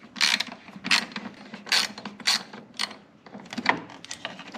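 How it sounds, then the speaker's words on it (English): A ratchet backs out the long 10mm bolts holding a car's grille, sounding as repeated bursts of fast clicking, each a second or so long, close by with short pauses between strokes. "we're going to remove the 4 10mm bolts that hold the grill in place"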